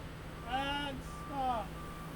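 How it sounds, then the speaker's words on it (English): A truck's backup alarm sounds twice at a bridge inspection site, two distinct electronic tones rising and falling about a second apart, moderately loud over a low steady hum. "As Barry instructs the driver to move in reverse, you'll hear the backup alarm"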